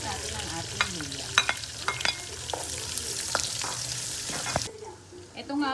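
Onion and ginger sautéing in a pan for nilasing na baka, a steady close sizzle punctuated by scraping stirs and clinks of the utensil, with a voice speaking briefly over it.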